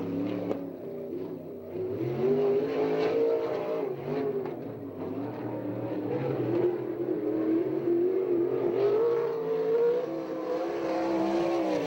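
A 410 non-wing sprint car engine racing at Victorville, California, roaring and revving continuously with rising and falling pitch as the car works around the track, loud and sustained without speech.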